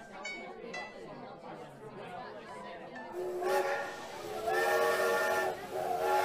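A busy railway platform at King's Cross station with crowd chatter, then a loud, sustained whistle blast sounding over the noise in the second half.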